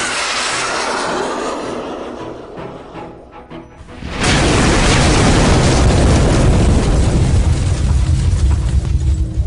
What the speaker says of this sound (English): that was an incredible explosion